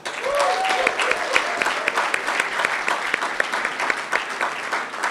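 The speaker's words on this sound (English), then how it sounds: "Let's applause our class of 2021." Graduation ceremony audience at CMU-Africa applauding the class of 2021, a sustained crowd of clapping hands with some voices mixed in, loud and continuous throughout.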